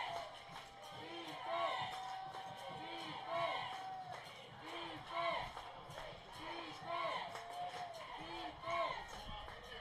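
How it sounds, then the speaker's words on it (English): Eastwood student section cheering at a high school football game against Chapin, a steady crowd roar with rising swells, heard from a distance under a broadcast commentator's voice. "the Eastwood student section really cheering them on here"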